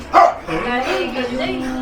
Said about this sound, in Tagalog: Daming aso kasi sa bahay.